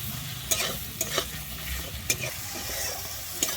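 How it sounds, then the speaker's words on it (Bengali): Tomatoes with turmeric fry in a pan beneath a soft, steady sizzle, with sharp scrapes and clacks of a spatula stirring about every second, close and without speech. "হলুদ দিয়ে আমি টমেটোটা খুব ভালোভাবে এখানে কষিয়ে নেবো যতক্ষণ না আমার টমেটোটা গলে যায়"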